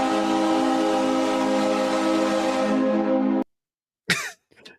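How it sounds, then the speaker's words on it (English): A hockey goal horn sounds like a train horn, blaring a long, loud, harmonically rich blast for several seconds before cutting off abruptly, followed by brief scattered noises. "Cue the goal horn"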